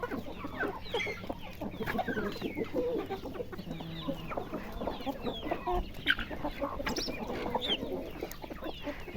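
Several chickens cluck steadily in a busy farmyard, overlapping calls near and far with continuous low background noise.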